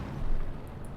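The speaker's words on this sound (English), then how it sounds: "We get a mortar after action now from Angreifen" Mortar fire in Company of Heroes 2, a World War II real-time strategy game: a dense, rumbling low-end barrage lasting about a second, with muffled blast energy rather than distinct sharp reports.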